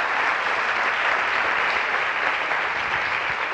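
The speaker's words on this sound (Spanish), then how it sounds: "un aplauso" Sustained applause from a crowd at a live talk, steady and dense from start to finish with no voices breaking through.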